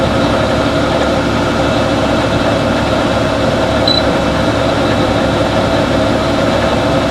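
A tractor engine runs while mowing hay, giving a loud, steady, unbroken drone with no variation in pitch or any voices.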